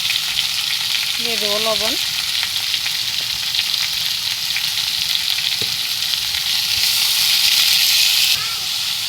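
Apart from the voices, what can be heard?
onions and pumpkin frying in a pan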